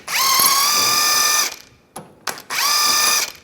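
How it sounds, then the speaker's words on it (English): A power tool spins a 24mm socket to remove the nut from the inner tie rod on a 2004-2010 BMW X3 steering rack. Two close, loud bursts of whirring are broken by a brief clicking pause in between. "Just gonna hold the inner tie rod in and use a 24mm socket."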